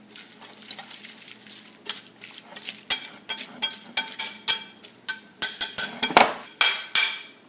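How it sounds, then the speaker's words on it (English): A whisk beats the ingredients for Asian-style tuna sliders in a bowl, giving a series of sharp rhythmic clinks and scrapes in irregular bursts, close and clear with no talking. "Time to whisk."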